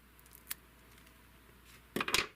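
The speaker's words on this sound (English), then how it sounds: "I'm going to cut a little diagonal" Scissors snipping fly-tying material diagonally at a tying bench, one small snip, then a quick close double cut near the end, in a quiet setting.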